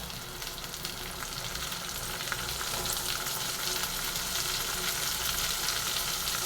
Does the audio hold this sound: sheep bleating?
no